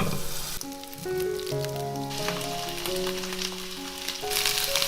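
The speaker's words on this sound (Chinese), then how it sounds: "把南瓜放进来煎" Pumpkin slices fry in a little oil in a flat pan with a steady, soft sizzle, partly covered by background music with clear melodic notes.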